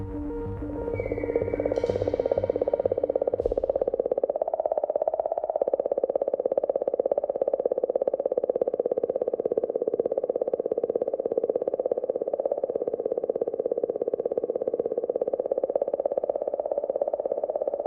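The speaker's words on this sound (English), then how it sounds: "Some are a little stranger, like the sound of this singing comet." An eerie, steady electronic warble drones on with a wavering tone and faint clicks, a singing signal recorded from a comet's magnetic field in space.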